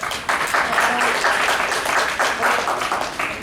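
Audience at a World Poetry Day recital at a university in Mathura claps after a verse about a mother's strength, a moderately loud burst of applause heard from among the crowd.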